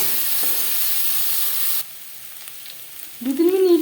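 Chopped, peeled potatoes hitting hot oil in a pan with a loud hissing sizzle that drops to a quieter fry after a couple of seconds, followed by a short voiced sound near the end.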